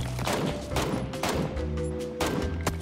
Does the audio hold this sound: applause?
no